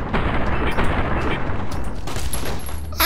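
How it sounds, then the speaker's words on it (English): Gunshots in Fallout: New Vegas, a dense run of rapid gunfire with overlapping bangs and a steady rattling barrage, loud and continuous with no pause. "Why is he shooting me?"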